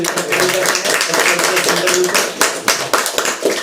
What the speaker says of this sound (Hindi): तो एक बार जोरदार तालियों के साथ मैं कहूँगा